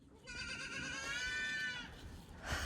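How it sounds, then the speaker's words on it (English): A goat, one of two bottle-raised kids kept near a garden, lets out a long loud wavering bleat close by, then goes quiet before a brief noise at the end. "Those goats are going crazy. They're just calling after me."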